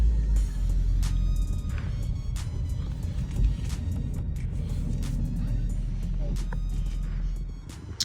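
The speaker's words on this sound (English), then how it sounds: "Just pull the car out." A used Ford Focus with 115,000 miles and a new battery idles and rolls out with a steady low engine rumble, close and continuous, while light knocks and clicks sound around it.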